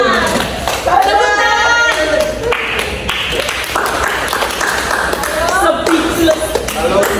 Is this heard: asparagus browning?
no